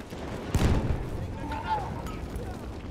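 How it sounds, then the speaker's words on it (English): An incendiary grenade goes off in Battlefield 1 as one sharp, loud blast, followed by a rumbling tail and distant battlefield noise while a voice speaks. "That's an incendiary grenade."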